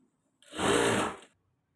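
Sewing machine stitching a folded blouse seam in one steady run of just under a second, close and fairly loud, starting and stopping cleanly with no talk.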